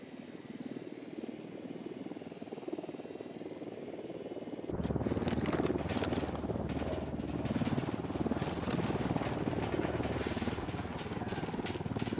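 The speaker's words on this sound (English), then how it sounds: "Deploying drone." A recon drone launching and flying in the video game Ghost Recon Wildlands, a quiet ambience that abruptly gives way to a steady mechanical buzzing hum with rattling clicks, continuous and fairly close, with no speech.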